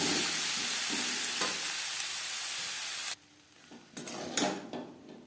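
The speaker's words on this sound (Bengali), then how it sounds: "তিন চার মিনিট আলুর সাথে পটল হালকা করে ভেজে নেব।" Potatoes and pointed gourd frying in a pan, a steady broadband sizzle for about three seconds that then drops away, followed by quieter stirring and scraping clatter near the end.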